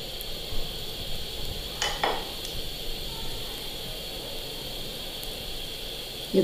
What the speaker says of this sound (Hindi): इसको अब बेसन के अंदर डिप करके ऑयल में डालेंगे